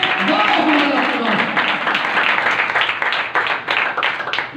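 A church congregation gives loud, dense applause in praise of God during a Hindi-language worship service, a sustained wash of many hands clapping with voices mixed in that gradually thins toward the end.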